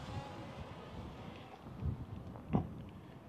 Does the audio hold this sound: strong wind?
yes